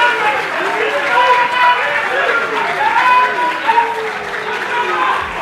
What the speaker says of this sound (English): Clap for them. Clap, clap.